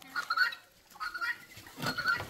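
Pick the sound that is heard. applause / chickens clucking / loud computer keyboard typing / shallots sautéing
chickens clucking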